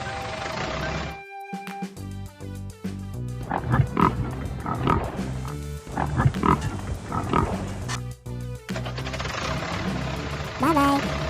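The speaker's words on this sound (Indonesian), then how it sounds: "Pig." Pig oinking among cartoon animal sounds in a children's zoo-truck animation, a series of short grunts over continuous background music, with a voice speaking at the start and end.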